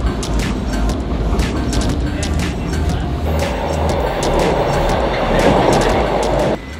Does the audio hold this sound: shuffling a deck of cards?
no